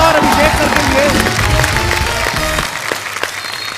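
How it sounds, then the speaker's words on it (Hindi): A television comedy studio audience bursts into loud applause and cheering for arriving guests, with music and a voice underneath, then the clapping cuts away abruptly near the end. "जोरदार तालियां एक बार अजय सर और अभिषेक सर के लिए"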